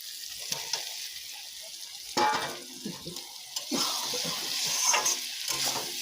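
Vegetables dropped into hot oil in a makeshift indoor cooking spot, bursts of sizzling and crackling as they are stirred, close and moderately loud with occasional clinks, no talking.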